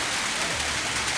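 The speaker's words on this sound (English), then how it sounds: "Oh, it's raining." Rain falls as a dense, steady hiss, close and even throughout the short moment with no talking.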